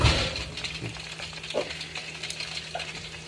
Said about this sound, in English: Probably hear it sizzling.